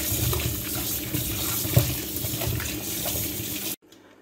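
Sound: rinsing potatoes under running tap water

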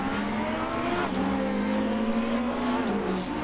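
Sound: race cars starting at Nürburgring in racing video game

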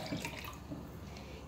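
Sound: pouring half a litre of ice water

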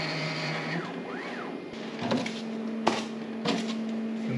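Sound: Bambu Lab X1-Carbon 3D printer running calibration

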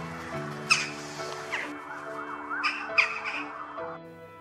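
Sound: jackdaw calling

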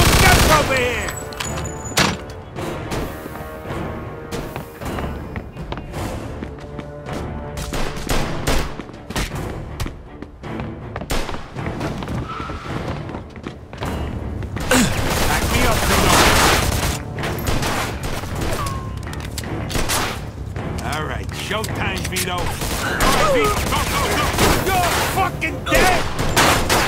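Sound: gunfire in Mafia 2 video game

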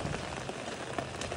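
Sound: rain falling on the Appalachian Trail

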